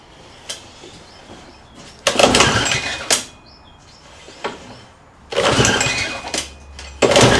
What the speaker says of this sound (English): it could be that I'm not getting enough swing on the pull start because it's way up in the air